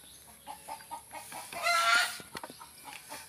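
Young free-ranging chickens cluck noisily in a farmyard, with a steady run of short clucks that swell into a louder burst of squawking midway before easing back to scattered calls.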